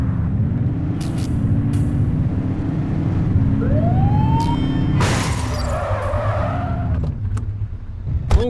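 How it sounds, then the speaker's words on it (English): Police car siren in The Precinct video game, a rising wail that cuts in over a steady engine drone and traffic noise, followed by a brief whooping burst and short sharp blips. "Get on their tail and flip the siren."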